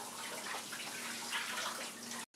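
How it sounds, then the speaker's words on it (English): Hands are rinsed under a running kitchen tap, a steady close splashing rush of water that cuts off abruptly at the end, no voices. "Let me rinse my hands."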